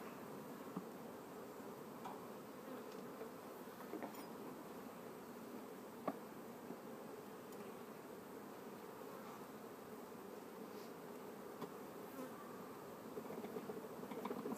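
Honey bees hum in an open hive during queen rearing work, a soft, continuous drone that stays even and quiet, with an occasional faint tap or click.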